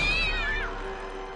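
Cartoon cat meowing from the animated series Johnny Test, a single loud drawn-out meow with a falling pitch that trails off into background ambience.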